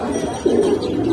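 A nesting female pigeon in a cage at a pigeon seller's gives a low, soft coo that swells partway through. It is close and fairly loud, with faint background noise around it.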